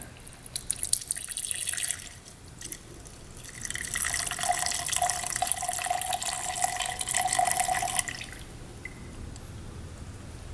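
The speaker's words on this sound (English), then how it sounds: "we're gonna drain out the gas into this cup and we'll see what's going on" Gasoline draining from a Honda dirt bike carburetor into a cup, a steady trickling, splashing stream that swells in the middle and then tapers to quieter dribbles, with no voices.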